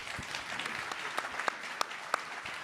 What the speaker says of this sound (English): a big round of applause for our panelists.